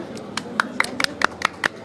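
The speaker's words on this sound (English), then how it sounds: "Let's have a big round of applause for" Quick, evenly paced hand claps at a launch event for Kaccha Lemmon Productions, cheering on Anupama. The brisk applause runs alongside murmuring voices in the room.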